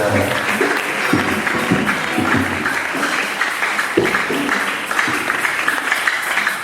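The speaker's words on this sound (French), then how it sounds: "Laissons Père acclamer le Seigneur" A congregation claps together at a funeral service, sustained applause with voices mixed in.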